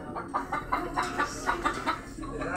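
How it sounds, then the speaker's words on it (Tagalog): Chickens cluck in a flooded barracks yard after rain, a run of short repeated clucks at a steady, mid-distance level with no talk over them. "Ito, may manok na rito."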